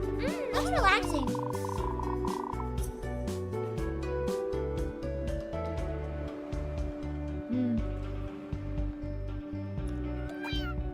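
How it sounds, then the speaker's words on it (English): Cat meows in a cozy cat cafe video game, several short rising calls, the clearest one early, over steady, relaxed game music with a quieter meow later. "I just really want to know who or what recorded the cat noises because they're so good."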